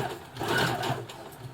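A Brother FS60X sewing machine stitches a denim jeans hem in one short burst, its needle mechanism whirring in a quick rapid rhythm up close, with no voices.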